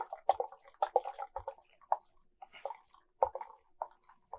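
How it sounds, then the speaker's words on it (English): Peach farmhouse ale aged in wine barrels pouring from a bottle into a glass, quiet close gurgles and splashes in short uneven bursts with brief pauses between. "I'm just going to pour a bunch out."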